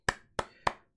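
Four sharp, close hand claps land at an even, unhurried pace, each one crisp and separate against near silence, with no voices alongside.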